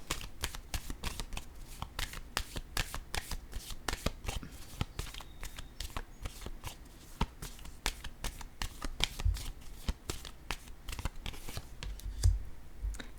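Tarot deck shuffled by hand in a quick, continuous flutter of card riffles and slaps, close and fairly quiet, with no talking.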